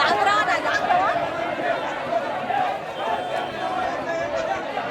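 Dense crowd chatter fills a busy fish auction in Devgad, many overlapping voices close and far in a steady, continuous din with occasional nearer talk rising above it.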